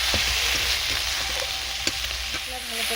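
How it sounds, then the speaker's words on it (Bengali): Spice masala for a crab and potato curry frying and being stirred in a pan with salt and a little sugar, a steady sizzle with scraping stirs throughout, close and fairly loud, no talk. "মশলা ভালো করে কষানো হচ্ছে"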